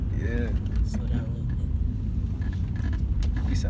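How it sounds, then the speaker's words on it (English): Loud car engine and exhaust rumble steadily while a teenager drives on the road, the low drone continuous and close throughout with brief voices in the cabin over it. "why my car sound so fucking loud? My exhaust not that loud."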